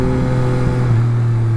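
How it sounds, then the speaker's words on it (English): A 2021 Yamaha MT-09 motorcycle exhaust drones steadily and loudly at a low pitch with a slight rise partway through, a continuous exhaust note with no voices. "The sound on this exhaust is"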